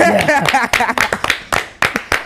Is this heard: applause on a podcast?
yes